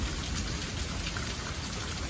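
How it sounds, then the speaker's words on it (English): Heavy rain pours down during a thunderstorm in a dense, constant hiss, loud and unbroken throughout, with no other sounds standing out. "Nice downpour."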